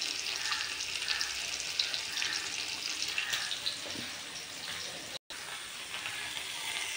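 Prawn vadas coated in gram flour batter bubble and crackle in hot oil, a busy close sizzle that runs on evenly, broken only by a brief dropout near the end, with no voices.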